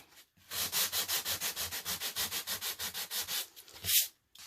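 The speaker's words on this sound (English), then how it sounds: "a lot of back and forth in order for it to just kind of scrape away just that very top layer of chalk paint" Rhythmic back-and-forth sanding strokes scrape the top layer of chalk paint off a pumpkin wall art piece, about fifteen steady close-up rubs with no talking, ending in one louder scrape.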